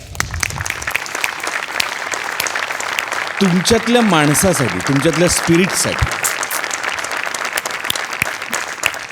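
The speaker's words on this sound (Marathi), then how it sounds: "सगळ्यात आधी जोरदार टाळ्या" An audience at a Marathi comedy show breaks into sustained, loud applause that fills the whole stretch, with someone speaking over the clapping throughout.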